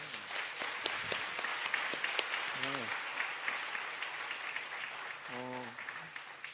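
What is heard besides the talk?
audience applause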